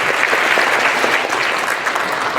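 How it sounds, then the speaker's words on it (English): Audience applauding at a middle school holiday concert, a steady dense clapping from a large crowd that holds at full strength throughout without any speech over it. "Let's give him a round of applause for"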